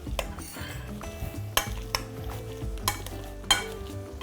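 Potatoes are mashed into a purée with a utensil in a pot, heard as close, soft squelching and stirring with scattered knocks against the metal, with no talking.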